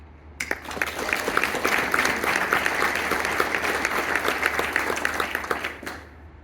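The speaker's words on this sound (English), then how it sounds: "please join me in a round of applause" A crowd applauds steadily for several seconds at a military change of responsibility ceremony, dense clapping at moderate distance that begins abruptly and then stops.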